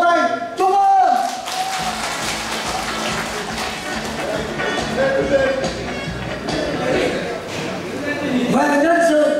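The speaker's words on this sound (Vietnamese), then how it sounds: "Đề nghị toàn thể hội nghị vỗ tay chúc mừng." Attendees at a Hai Phong business association conference for war invalids and disabled people applaud in congratulation, a steady wash of hand claps through most of the stretch, with voices and other sounds mixed in at the start and end.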